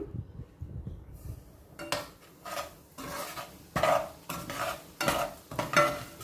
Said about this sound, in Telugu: ఈ గోధుమ నూకు ఉంది కదా ఇది ఫ్రై చేసేద్దాము